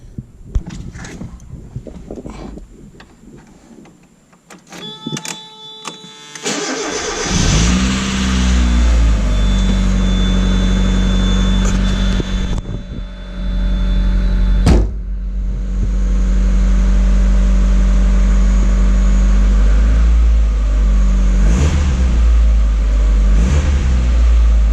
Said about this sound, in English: So the idle on it now is insanely smooth. It revs very controlled